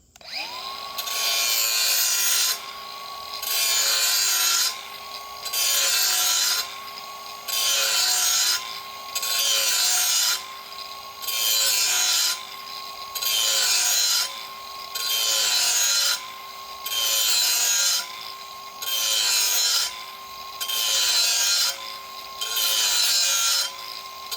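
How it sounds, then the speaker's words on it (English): A blade is ground on a sharpener in a steady rhythm of about a dozen rasping passes, each a couple of seconds long with short pauses between them, loud and close with a faint motor hum underneath. "And you grind it."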